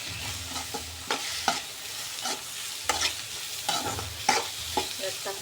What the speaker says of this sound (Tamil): தக்காளி போட்டாச்சு. இப்போ இதை சேர்த்து வதக்கணும்.